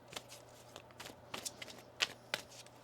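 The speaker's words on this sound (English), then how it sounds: "One more shuffle here." Tarot cards being shuffled by hand in short, crisp riffles and soft slaps, close and quiet, several quick bursts in a row.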